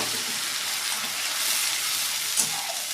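Onion and spice paste for a lote fish curry sizzles steadily in a hot pan, a dense, close, continuous frying hiss with faint stirring scrapes and no talking.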